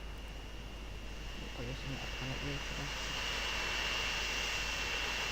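Steady broadband roar of an airplane engine flying low in the video game Transport Fever, swelling slightly louder over several seconds, with a brief faint tonal hum partway through.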